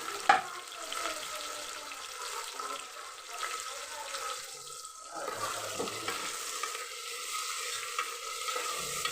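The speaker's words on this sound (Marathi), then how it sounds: "आणि कांदा, आणि टमाटर सोबतच परतून घेते." Onion and tomato with cumin sautéing in oil in a pan for a village-style spicy chicken rassa, with a soft steady sizzle and occasional stirring scrapes throughout.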